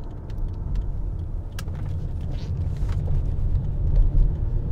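A 2004 Lexus GS300 with about 150,000 miles accelerates, heard from inside the cabin as a steady, low engine and road rumble that swells slightly toward the end.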